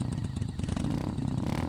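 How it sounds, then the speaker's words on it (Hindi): A motorbike rides along a forest road at night, its engine a steady, close, rumbling drone that fills the whole moment with a rough, continuous texture. "अपनी बाइक से अपने घर आ रहा था।"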